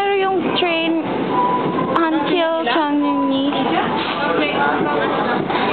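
A train in Korea runs toward Cheongnyangni station with a continuous rumble and rail noise, while people talk loudly over it nearby.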